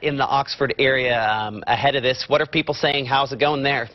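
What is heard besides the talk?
None of the usual background noises is heard.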